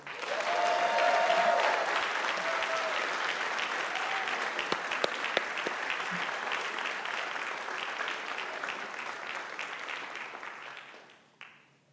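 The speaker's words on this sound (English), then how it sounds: "Now, everyone, please give a round of applause for John Jay's very own Marcus Green." At a college convocation the audience gives a long round of dense, loud applause that holds steady for about ten seconds, with a few sharper claps standing out near the hall, then fades quickly to silence.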